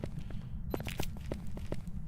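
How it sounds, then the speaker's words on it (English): Ghost footsteps in the video game Phasmophobia, a series of soft, irregularly spaced thuds and scuffs, moderately close over a steady low rumble, with no talking. "I was hearing footsteps up here"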